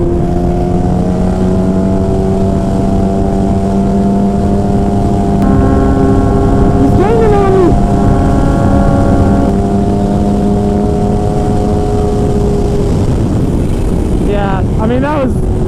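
A sport motorcycle is ridden at speed through a leaned turn at around 90 in sixth gear, its engine holding a steady, smooth drone under heavy wind rush, with a brief pitch shift midway.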